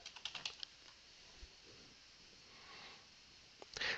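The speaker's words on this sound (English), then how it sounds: "if I can type" Light tapping on a computer keyboard, a short burst of clicks at the start and another near the end, quiet and close, with a faint sniff in between and soft background noise.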